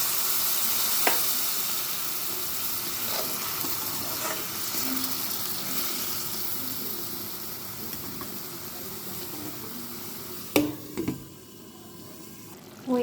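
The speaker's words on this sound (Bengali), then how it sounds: "এবার আমি এর মধ্যে সামান্য পরিমাণ জল দিয়ে ঢেকে সেদ্ধ করে নেব।" Chicken liver simmers covered in a pan with a little added water, a continuous soft hiss and bubbling with a few brief clatters near the end.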